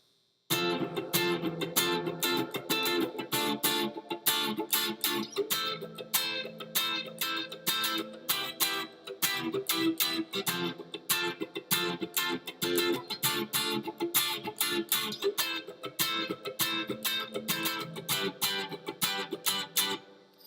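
Electric guitar with distortion and effects strums a 4-2-6-3, 4-2-6-5 chord progression in a choppy, percussive rhythm, loud and steady throughout.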